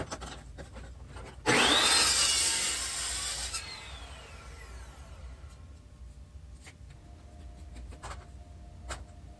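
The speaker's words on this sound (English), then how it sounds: "Those Evolution saws are definitely worth looking into if you're looking for a chop saw." An Evolution chop saw cuts wood in a workshop with a sudden loud whining bite that sustains and tapers off over a couple of seconds as the blade spins down, followed by faint clicks and handling noises.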